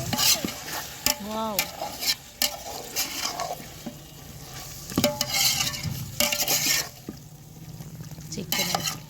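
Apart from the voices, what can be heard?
stirring chicken with curd in a pot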